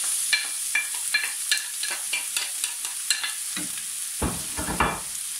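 Onion with green and red bell pepper fry in hot oil in a heated pan, with a steady sizzle hiss under repeated close stirring scrapes and a louder clatter near the end.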